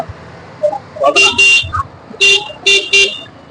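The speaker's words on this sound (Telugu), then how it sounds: "ఎంత ట్రాఫిక్" Car horns honk in busy street traffic, with loud, close blasts in several clusters of short repeated toots over a low traffic rumble.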